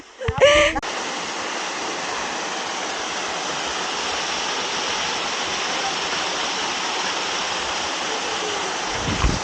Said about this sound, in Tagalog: itong nasa likod ko, yung tinatawag nila na Papaya River.